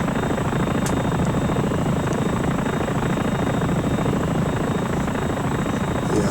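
Helicopter engine and rotor in the X-Plane flight simulator game, a steady, loud whine and dense rumble that holds unbroken throughout.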